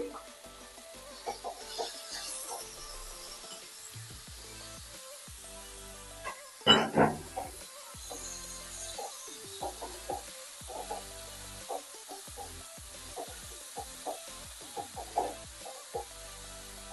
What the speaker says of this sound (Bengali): আমি দিয়ে দিলাম গ্রেট করা রসুন আর আদা, পেঁয়াজ কুচি,